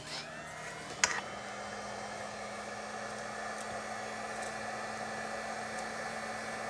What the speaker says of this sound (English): All right, so let's dry that and see where we're at. Where is my dryer?